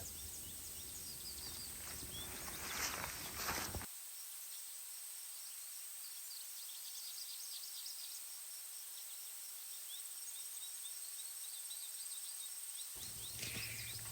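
Faint high chirps and twitters from distant birds over a steady hiss of outdoor ambience, with a few louder rustling bursts near the start.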